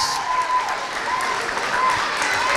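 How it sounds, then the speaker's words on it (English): A large audience in an auditorium at a summer camp finale applauds steadily, a dense wash of clapping that continues without a break. "please give them a huge round of applause"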